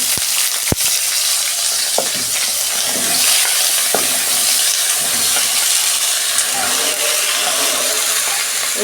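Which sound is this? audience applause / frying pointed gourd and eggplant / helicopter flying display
frying pointed gourd and eggplant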